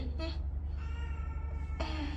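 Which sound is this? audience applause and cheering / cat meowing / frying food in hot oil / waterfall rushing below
cat meowing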